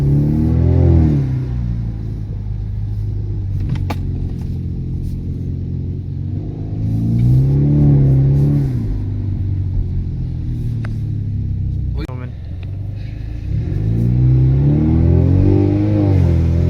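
A turbocharged four-cylinder Camaro engine revs and accelerates in repeated surges, rumbling loudly up and down through gears with a few clicks, close by and without talk.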